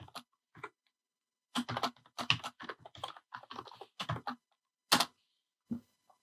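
Irregular bursts of key presses on a computer keyboard as a password is typed, crisp and close, in short clustered runs separated by pauses, with no talking.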